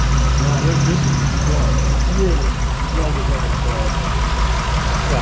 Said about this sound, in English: You can see how it idles fine.